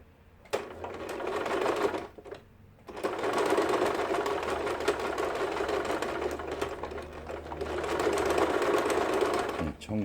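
Yamata FY812 sewing machine running a quilting stitch, a fast steady mechanical whir in two long bursts separated by a short pause, close and clear.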